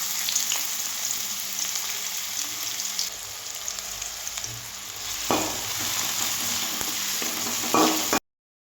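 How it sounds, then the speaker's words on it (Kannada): Green chillies frying in hot oil in a home kitchen pan while pasta is prepared, a loud continuous sizzle and crackle with a brief spatter surge midway before cutting off. "ಸ್ವಲ್ಪ ಎಣ್ಣೆಯನ್ನು ಹಾಕ್ಕೊಳ್ತಿದ್ದೀನಿ ಎಣ್ಣೆ ಕಾಯ್ತಾ ಇದೆ ಇವಾಗ"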